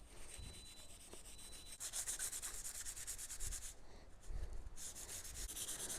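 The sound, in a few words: sanding a metal emblem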